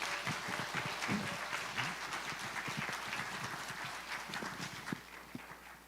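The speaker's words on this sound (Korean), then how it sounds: "우리 힘찬 박수로 우리 선교사님 맞이하겠습니다." A church congregation claps to welcome a returning missionary, a dense, sustained round of applause with scattered heavier hand claps and thumps mixed in, steady throughout.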